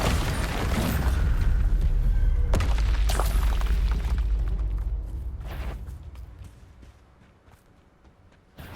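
Explosive booms from the Bombarda blasting spell in Hogwarts Legacy: loud rumbling impacts with sharp crackling bursts at the start, then a decaying roar that fades toward the end.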